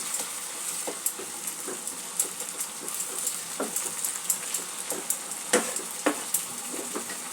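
Ground turmeric, coriander, cumin and chilli powder are stirred into bhetki fish curry in a pan, with a steady close sizzle of frying broken by repeated scraping strokes of the spoon.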